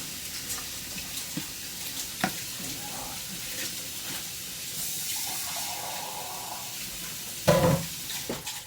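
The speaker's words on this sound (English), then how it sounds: "Just keep stirring it up. Don't let it stick to the bottom of the pan." Strawberry pie gravy stirred in a pan on the stove, a steady soft scraping and gentle bubbling sizzle running throughout at moderate level, with a few louder clinks of the utensil against the pan.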